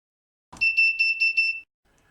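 Short burst of five quick, shrill electronic beeps from a Tasmota-controlled buzzer at 100-millisecond steps, clear and close, preceded by a faint click and followed by silence.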